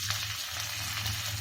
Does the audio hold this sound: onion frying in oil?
yes